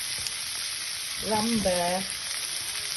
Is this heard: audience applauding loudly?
no